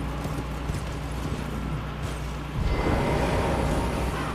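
A horse's hooves clip-clop steadily in Elden Ring over a constant low rumble from a volcano cave setting. The hoofbeats grow louder and busier partway through, as if the horse speeds up or moves onto harder ground.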